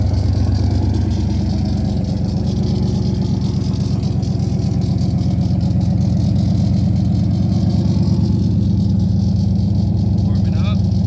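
A turbocharged Coyote V8 in a Fox Body car idles at its first startup, a deep, steady rumble with a fast lumpy pulse, close and loud; someone talks over it throughout.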